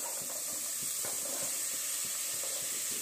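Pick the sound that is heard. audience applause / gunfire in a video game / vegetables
vegetables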